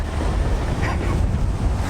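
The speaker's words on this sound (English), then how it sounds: "It's super windy and it looks like it's about to rain." Loud, blustery typhoon wind buffets the microphone in a steady rumbling roar, no voices heard.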